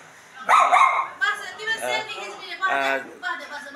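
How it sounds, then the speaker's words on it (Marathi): A dog in a hotel dining area in Kathmandu, Nepal, gives a few short, close barks and yips, mixed in with steady conversation nearby. "हे बघा कुत्रा किती सुंदर आहे बघा"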